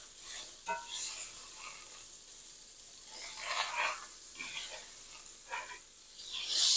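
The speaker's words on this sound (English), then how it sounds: "We're just going to let our butter melt in there with that." Butter melting in a hot skillet sizzles with a steady crackling hiss, brief louder bursts of spattering grease rising and falling throughout.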